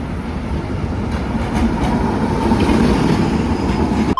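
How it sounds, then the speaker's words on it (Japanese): A tram in Belgrade, Serbia rolls along with a steady, dense rumble of wheels on rails and faint rattling, continuous throughout. "十分観光も終えたので、路面電車で宿に帰っていこうと思います。"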